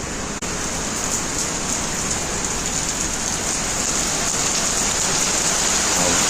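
Steady, even rain in Nellore district hissing down and pattering on surfaces, continuous and fairly close, with no voices.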